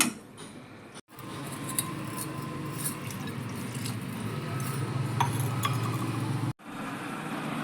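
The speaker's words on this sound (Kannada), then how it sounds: "ಇನ್ನೂ ಒಂದು ಲೋಟದಷ್ಟು ನೀರು ಹಾಕ್ಕೊತಾ ಇದ್ದೀನಿ ನಾನು" A glass of water is poured into a cooking pot of simmering leftover-masala kurma, a steady splashing rush lasting about five seconds with a clean stop and no talking.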